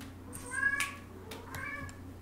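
A pet cat meows twice indoors, a longer rising call followed by a shorter one, close by and moderately soft over faint room hum.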